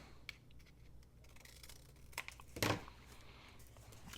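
Paper cut with scissors while making a junk journal: a few quiet snips and small rustles, with one louder, longer cutting stroke near the end, faint and close in a quiet room.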